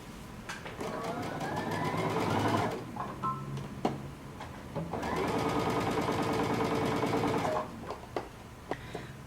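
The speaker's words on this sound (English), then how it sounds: "we're going to sew across each shoulder using 5/8 of an inch seam allowance" A sewing machine stitching a dress shoulder seam at 5/8 inch allowance, running in two steady, fast-rattling bursts of a few seconds each, close, with short pauses and small clicks between them.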